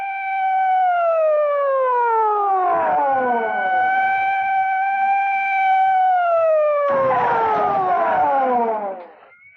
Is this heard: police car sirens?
yes